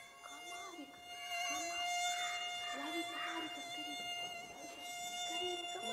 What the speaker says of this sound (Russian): Был комарик?